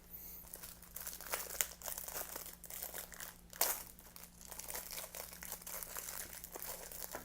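Close, crinkly rustling and tearing of foil wrapping as a sealed pack of Topps or Panini trading cards is pulled open, with a few sharper crackles during the struggle.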